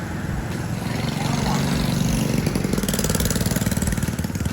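Steady mechanical drone with a fast pulsing rumble, from a Belleiki electric motorbike approaching during a test ride, heard outdoors at a constant, fairly loud level.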